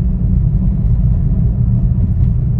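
A 2023 Hyundai Grand i10 Nios Sportz AMT 1.2L car accelerates in fourth gear, a loud, steady low rumble of engine and road noise heard from inside the cabin.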